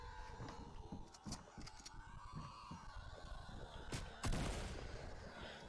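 Faint, muffled gunshots crack repeatedly amid a busy Fortnite game soundscape, with one louder shot near the end; the whole mix is quiet and distant.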